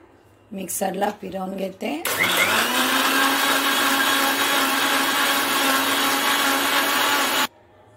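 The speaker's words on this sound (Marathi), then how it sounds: "संत्र्याच्या फोडी मिक्सरला फिरवून घेते." A mixer grinder whirs loudly and steadily for about five and a half seconds, blending orange segments with sugar and cold water for juice, then cuts off abruptly; a voice talks briefly just before it starts.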